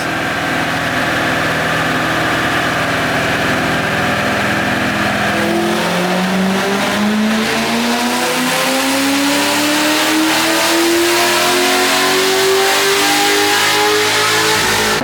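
Tuned, semi-stock Corvette V8 on a full pass, a loud sustained engine roar that holds at first, then climbs steadily in pitch through the gears as the car accelerates hard, heard close and alone.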